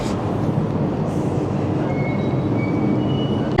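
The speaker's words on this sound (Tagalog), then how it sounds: "Ayan na yung SkyTrain papuntang Terminal 2." The Changi Airport SkyTrain to Terminal 2 in Singapore rolls along with a steady, close rumble of wheels and motor, and brief faint squeals high above the noise.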